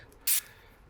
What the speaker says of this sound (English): So I'm spraying in a random pattern.